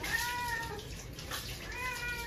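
A cat crying during a bath, with drawn-out plaintive meows close by over running water from a tap, the wails rising and falling across a few seconds.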